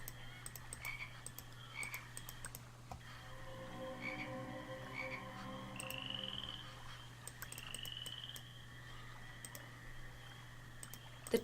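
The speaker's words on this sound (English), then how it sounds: "Can you like, stop the insects?" Insects drone and click in the Egyptian setting of The Egyptian Prophecy adventure game, a faint continuous buzzing hum with repeated chirping, croak-like calls layered over a steady background tone.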